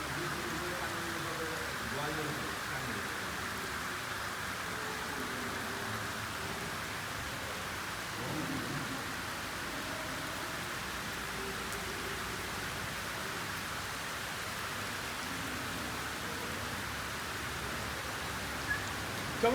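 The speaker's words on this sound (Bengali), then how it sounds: "চমৎকার বৃষ্টি নামছে রে," Gentle rain falls steadily over a wetland in Kapasia, Gazipur, making a soft, even hiss throughout. Faint speech and light rustling sit under it.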